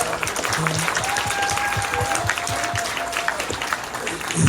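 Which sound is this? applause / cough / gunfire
applause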